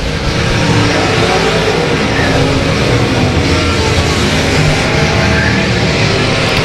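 Race cars run flat out on a track, a loud, continuous roar of engines close by that stays at a steady, dense level throughout with no pauses.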